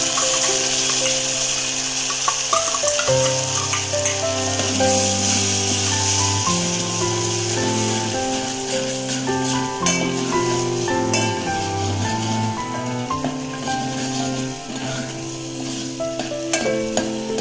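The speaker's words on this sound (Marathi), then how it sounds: "आता ही टोमॅटोची प्युरी काढली होती ती टाकते" Tomato puree tipped into hot oil that has just fried chillies sizzles and hisses loudly and steadily while being stirred, with background music playing and no talk.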